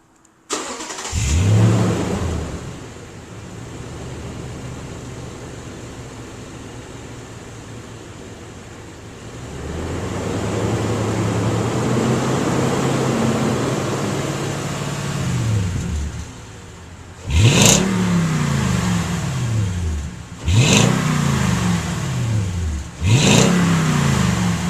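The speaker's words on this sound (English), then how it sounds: "So a sound test first, so you can hear what it sounds like with the stock exhaust on it, which is on it right now." A 2008 Toyota Tundra with a 5.7L engine and stock exhaust starts up, settles into a steady idle, then rises in a long sustained rev followed by three sharp blips of the throttle, all loud and close.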